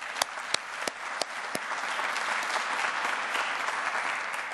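Audience at a press conference for a business conference in Columbus breaks into applause, a few scattered early claps swelling into a dense, sustained round of clapping across the room.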